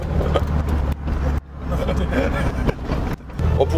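Loud, rattling interior roar of an old car, abandoned for 32 years and not much restored, driving at about 130 km/h. The noise is continuous, with brief dips, and a voice speaks over it.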